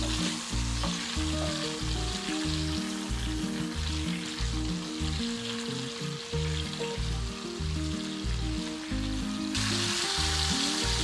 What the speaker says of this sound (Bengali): গোলমরিচের গুঁড়ো দিয়ে ডিমটা একটু হালকা ভেজে নেব